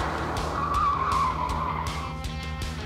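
A 2021 Ford Puma ST corners hard on a race track, its tires skidding and squealing in a drawn-out screech over the steady hum of the engine, with no talking.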